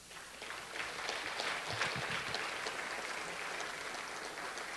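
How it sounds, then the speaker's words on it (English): Steady applause from a crowd, a continuous even patter of many hands clapping at moderate volume throughout. "So why don't you give each other a round of applause?"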